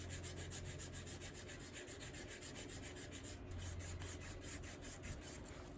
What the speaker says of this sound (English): So I think a bit of a buff up with very, very fine sandpaper.